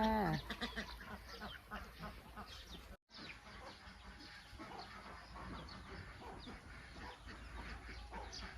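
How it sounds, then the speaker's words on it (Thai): Egg-laying ducks in a farm pen, converted from an old pig shed, splash and play in water, with quacking, barking-like calls and steady busy commotion throughout. "เป็ดที่นี่ คอกนี้ก็จะปล่อยให้เขาลงเล่นน้ำในช่วงกลางวันนะคะ"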